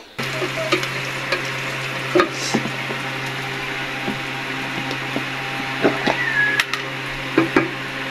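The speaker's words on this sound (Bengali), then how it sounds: "এই তো পেঁয়াজ মরিচ এখনো ভাজা হচ্ছে।" Onions and chilies frying in a pan for a home-cooked curry: a low steady sizzle with scattered clicks and taps of a spatula against the pan, close by and without speech.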